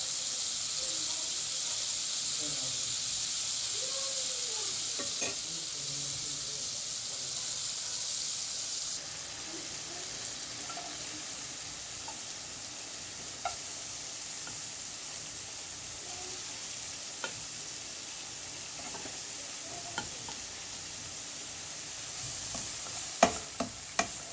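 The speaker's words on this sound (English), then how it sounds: "a little bit of the butter, so it can actually simmer and melt" Butter simmering and melting in a pan with pork chops, a steady bright hissing sizzle throughout with occasional faint clicks and pops, close and continuous.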